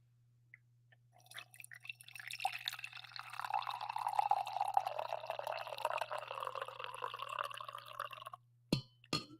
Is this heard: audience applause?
no